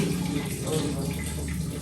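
Water runs from a new shower in a freshly tiled bathroom, a steady close splashing hiss with faint voices in the background.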